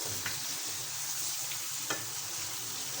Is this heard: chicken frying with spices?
yes